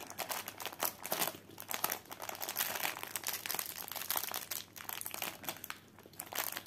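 Plastic bag crinkling and rustling up close as unboxed cross-stitch supplies are packed back into it, irregular crackles continuing alone for several seconds.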